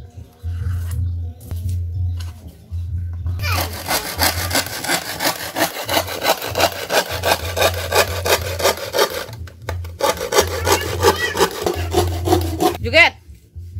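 Handsaw cutting wooden boards for a homemade kitchen set, with steady, loud rhythmic back-and-forth rasping strokes that start after a few seconds of low hum and pause briefly twice before ending.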